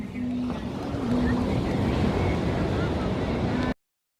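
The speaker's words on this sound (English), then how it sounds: "there's a lovely breeze starting to pick up now" Breeze and surf at Kuta Beach, Bali, form a steady, loud rush of wind noise and waves across the whole stretch, with someone talking over it before the sound cuts off abruptly.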